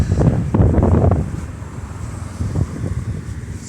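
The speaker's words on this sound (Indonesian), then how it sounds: "Ini pantai Yehle guys." Wind buffets the microphone on Yeh Leh beach in Bali, with a low, rumbling wash of surf beneath it that swells and fades steadily throughout, loud and close, with no voices.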